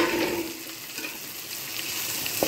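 Crushed garlic with its skin on fries in a pan with a soft, steady sizzle and a few faint stirring scrapes, quiet and close, with no speech.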